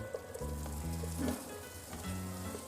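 Capsicum and carrot fry in a pan for vegetable biryani, giving a faint, steady sizzle beneath louder background music.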